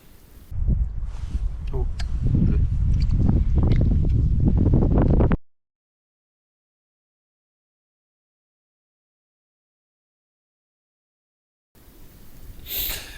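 Strong wind buffets the microphone while ice fishing for perch, a loud continuous roar for about five seconds, then silence, before gusts return faintly at the end.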